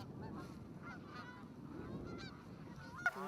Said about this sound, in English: The male geese are clearly agitated.